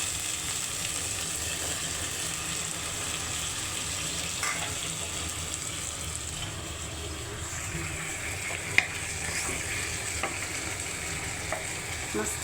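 Bitter gourd stir-fries in a pan, a continuous moderate sizzle with soft stirring clatter and a few light clicks, steady throughout with no talking.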